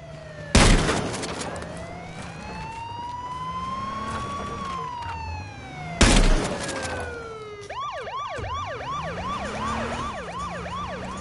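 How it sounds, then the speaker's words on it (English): Vehicle siren in the H1Z1 video game, a loud wailing tone that rises and falls slowly, then switches to a rapid yelping warble, with two sharp bangs cutting in. "Get off the fucking siren"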